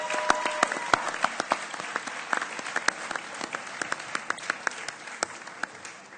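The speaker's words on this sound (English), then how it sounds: "if you could just applaud the staff behind me for the support they've given you too" A graduation ceremony audience applauds the staff with loose, scattered clapping, individual sharp claps standing out over a lighter patter that thins toward the end.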